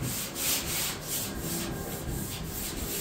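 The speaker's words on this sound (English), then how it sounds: "I think it's sanding time now." Close, steady scratchy rubbing of sandpaper on a Volvo Amazon car body, with rhythmic back-and-forth strokes repeating about twice a second.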